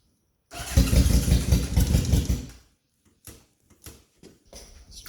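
A 1978 Honda CB750A motorcycle engine catches and runs roughly for about two seconds, a loud, close, lumpy burble, then dies, leaving a few faint knocks and clatters.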